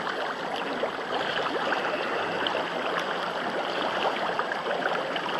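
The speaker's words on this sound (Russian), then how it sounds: "Водичка тепленькая, приятно булькает" Warm water gurgling and bubbling in an outdoor thermal pool at a Slovak ski resort, a steady dense burbling wash that continues evenly throughout, moderately loud and close.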